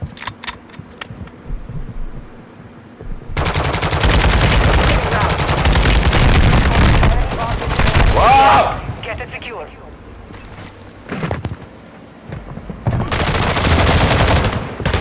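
Rapid automatic gunfire and shotgun blasts in a squad-based shooter video game, loud bursts separated by quieter stretches, with a player talking over the action.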